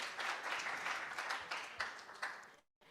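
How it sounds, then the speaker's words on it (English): Audience applause fills a conference hall after a speaker's introduction, a steady wash of many hands clapping that swells and fades over a few seconds before cutting off. "Pause for applause."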